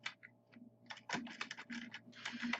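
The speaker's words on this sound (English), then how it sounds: "I have to type this in" Typing on a computer keyboard, quiet close clatter of keystrokes in irregular bursts that grow busier toward the end, with no talk.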